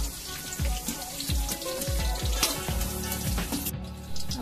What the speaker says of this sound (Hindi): इसको हम निकाल लेंगे और आलू डाल के फ्राई करेंगे